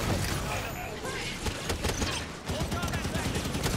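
Turret gunfire in Halo 5: Guardians keeps up steady rapid bursts over busy game noise, with mechanical clanks and a voice talking through much of it.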